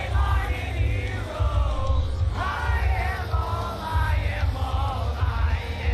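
A crowd at Sonic Expo, a fan convention, cheers and yells continuously, with whoops rising over a steady roar of voices close around the listener.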